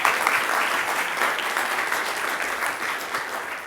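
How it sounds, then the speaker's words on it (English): Sustained round of applause from a conference audience for the panelists at a morning session, even, dense clapping throughout that tapers slightly at the end, with no talking. "And panelists, round of applause, please."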